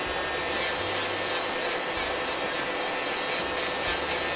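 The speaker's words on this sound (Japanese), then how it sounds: "サンディングバンドに変えたんですが、サンディングバンドの方がしっかり削れます" A cheap nail drill machine fitted with a sanding band files off gel nail polish, giving a continuous close rasping, grinding texture with a dust collector running.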